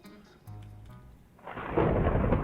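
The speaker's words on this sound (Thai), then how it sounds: "เราเราลองตามเสียงฟ้าผ่าไปม้่งไหม" Thunder from a lightning strike in the Minecraft zombie world, a deep rumbling crash swelling loud and close in the last second after quieter game sounds.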